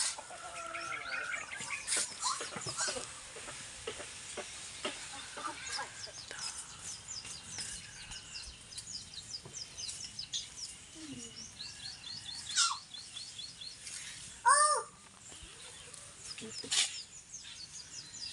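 A pet owl kept by a hunter gives a few sharp, close calls amid a busy bird-filled outdoor background, with one stronger burst standing out near the end.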